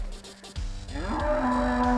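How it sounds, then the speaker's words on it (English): A cow moos in the video game Romancelvania, a single loud, close, drawn-out low bellow that rises and holds, heard alone without talk. "It's a sacred cow."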